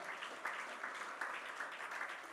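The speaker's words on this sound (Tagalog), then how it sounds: "Sa Tagalog, sige, palakpakan natin ang Panginoon." A church congregation applauds the Lord during a service, a faint, distant wash of many hands clapping continuously in a large hall.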